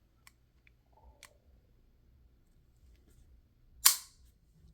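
A Kimber 2K11 pistol trigger is pulled, giving one sharp, crisp click near the end, with a few faint ticks of handling before it in an otherwise quiet room.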